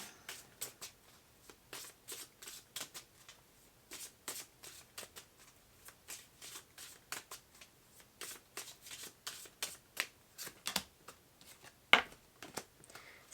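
Oracle cards are shuffled close up in quick, repeated riffling bursts with short pauses between them, steady throughout with no talking.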